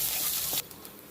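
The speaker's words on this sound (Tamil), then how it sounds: "அடுத்ததாக வந்து ஒரு பாதி வெங்காயம் வந்து பொடியாக நறுக்கி சேர்த்துக்கோங்க." Chopped half onion with cumin, fenugreek and fresh curry leaves frying in hot oil for a chili salan gravy: a loud, dense sizzling hiss that cuts off abruptly after about half a second, leaving faint quiet crackles.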